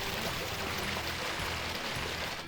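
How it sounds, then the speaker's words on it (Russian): Kashkasu waterfall on the Kashkasu-Sai stream in the mountains of Uzbekistan, a steady, dense rush of falling water that holds constant and fairly close throughout, with no voices. "Красивый водопад Кашкасу"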